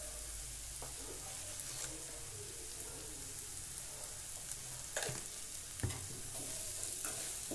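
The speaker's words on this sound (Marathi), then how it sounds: "छान सगळं असं मिक्स करून घ्यायचं" Eggplant bharit being stirred and mixed in a pan, a soft continuous sizzle of oil with scraping spoon strokes at intervals, fairly close and quiet, with no talking.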